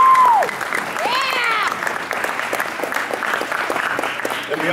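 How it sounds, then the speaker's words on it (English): Crowd applause at a wrestling end-of-season awards ceremony, a sustained wash of clapping with a few whistles and cheers rising over it. "Please give a round of applause."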